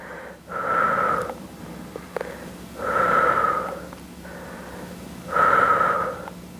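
Three slow, audible breaths in and out with a slight wheezy whistle, from a person holding a hamstring stretch, each breath drawn out and fairly close, with quiet pauses between.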